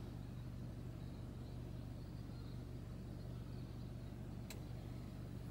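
A car with a failing starter cranks without catching, giving a faint, steady low rumble with a rhythmic pulse and one brief click near the end, with no talking.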